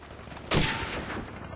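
A single sharp gunshot from a first-person shooter video game, loud and close, cracking suddenly and trailing off into a lingering reverberant tail.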